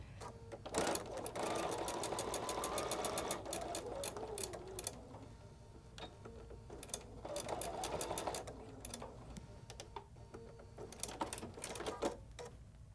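Sewing machine stitching and backstitching fabric for a cross stitch ornament, a quiet, rapid mechanical clatter of the needle that runs steadily and then slows into separate ticks and short bursts, with no talking.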